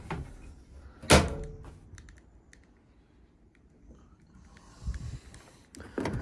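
A Ford Transit Custom 2.0 TDCi 130 EcoBlue van door, opened and closed by hand: one sharp loud clunk early on, a few lighter clicks and rattles, then softer thuds near the end, with no talking.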